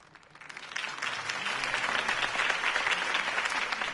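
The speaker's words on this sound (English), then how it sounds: "could have heard that applause" Steady crowd applause in the video game Batman: The Telltale Series, swelling in after a quiet start, then holding as a dense wash of clapping, moderately distant.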